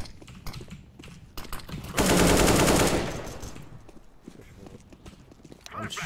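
Rapid automatic gunfire bursts out in a video game shootout, a loud sustained volley for about a second, set among scattered shots, footsteps and clatter, with a player talking over parts of it.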